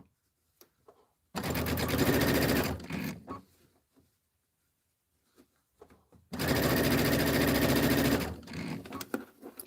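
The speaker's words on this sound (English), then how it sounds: "I don't sew super fast, and since I don't use pins, I just sew a little bit at a time." A home sewing machine stitches fabric in two separate runs of steady, loud whirring, with quiet handling noises in the pause between them.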